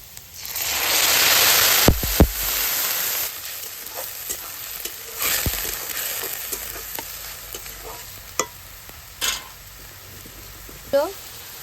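A steady sizzle of onion and garlic frying in a pan, with a few sharp scrapes and clacks of a spatula stirring.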